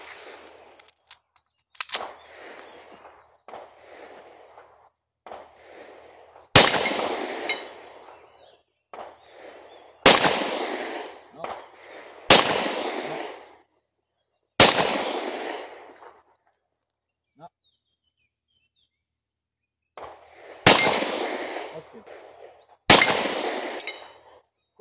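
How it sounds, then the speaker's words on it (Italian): Fiocchi full metal jacket commercial cartridges are fired from a Tanfoglio pistol at a dynamic shooting range, about eight loud, sharp gunshots at irregular intervals with ringing tails, between quieter clatter and handling noises. "Stiamo sparando delle cartucce commerciali fiocchi blindate."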